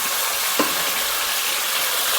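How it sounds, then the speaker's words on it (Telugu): Tomato, drumstick root, onion, sweet potato and green chillies frying in oil in a pan, a steady close hiss of sizzling with a single brief stir or clink partway through. "ఇది ఆయిల్లో బాగా ఫ్రై అవ్వాలి."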